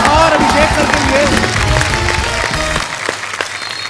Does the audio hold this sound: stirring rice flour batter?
no